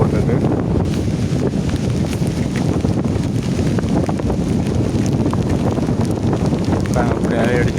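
Strong Cyclone Ditwah wind buffets the microphone at an unsafe deep-water coastline in Sri Lanka, a continuous loud roaring rush with surf-like noise throughout.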